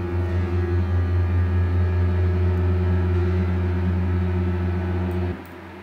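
Cello tremolo tracks run through Valhalla Supermassive reverb form a thick, sustained bowed chord that holds steadily for over five seconds, then drops away sharply with only a faint tail left.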